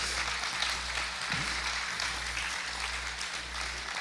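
Church congregation applauding at a Spanish-language sermon on the Kingdom of God's finances: steady, dense clapping from a crowd indoors, continuous and moderately loud throughout, with a low hum underneath.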